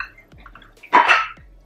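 A cup of ingredient poured into a bowl of stiff vegan cookie mix, heard as one short, fairly loud rushing pour lasting under half a second amid quiet kitchen background.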